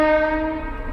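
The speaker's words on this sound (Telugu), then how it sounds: "హారన్ అయితే మంచిగా ఉంది గాయస్ రైల్ది." Horn of a train on the Secunderabad to Vikarabad route, a loud, sustained harmonic blast close by that fades gradually over a second.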